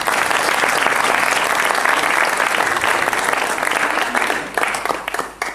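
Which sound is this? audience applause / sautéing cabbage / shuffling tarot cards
audience applause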